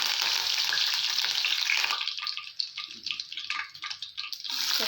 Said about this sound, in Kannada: ಸಾಸಿವೆ ಜೀರಿಗೆ ಚಟಪಟ ಅಂತ ಸಿಡಿಬೇಕು.